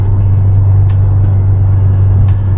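A turbocharged Mazda3 MPS being driven, heard from inside as a loud, steady low engine drone and road rumble with a constant hum throughout, no speech.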